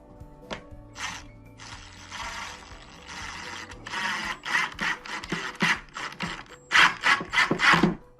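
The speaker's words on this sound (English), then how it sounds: "Now I'm going to run these 2 screws in here and it'll pull this in" A powered driver runs two screws into wood on a model train layout, giving repeated whirring, ratcheting bursts that grow louder and more clustered toward the end, with no talking.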